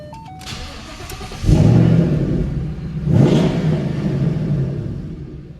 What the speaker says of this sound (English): I'm going to open the door so you can hear that exhaust system when it starts up